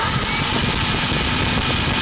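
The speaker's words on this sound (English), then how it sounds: "Go ahead and engage the supercharger." A running engine with a GTE Performance 5 PSI supercharger engaged gives off a loud, steady high-pitched whine over dense mechanical noise, close and unbroken.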